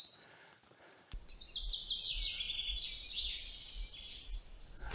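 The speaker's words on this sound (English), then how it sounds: "Lovely sound of birdsong here." Birdsong on Dartmoor near Fernworthy reservoir, with high bright chirps and trills starting after a second and continuing in overlapping phrases, fairly clear over a low background rumble.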